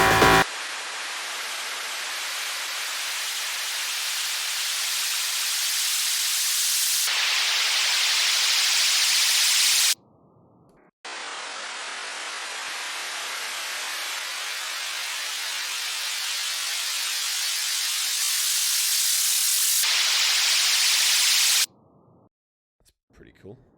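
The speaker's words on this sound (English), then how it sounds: "because it's white noise, it should be fine" Stretched white noise sample in a music production plays as two long hissing sweeps, each brightening steadily for about ten seconds before cutting off abruptly, with a brief quieter gap between them and a short tail at the end.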